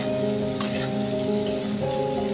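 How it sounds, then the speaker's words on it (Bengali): Onions sizzle steadily in a hot pan while being stirred, a continuous close frying hiss with faint scraping from the stirring. "পেঁয়াজটা আরেকটু নাড়াচাড়া করে"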